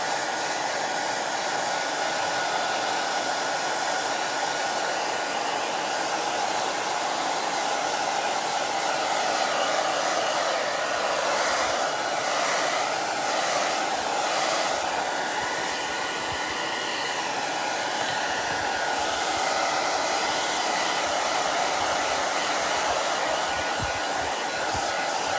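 A hair dryer blows steadily over a stencilled Dollar Tree cutting board, a constant loud whirring hiss with slight wavering as it moves, running alone without interruption.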